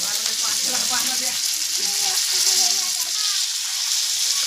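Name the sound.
tilapia fish frying in oil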